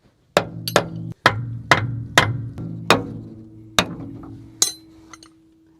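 Metal hammer strikes ring out on a KamAZ truck brake chamber during a brake repair, about eight close, loud clanging hits with a sustained metallic ring between blows, slowing toward the end.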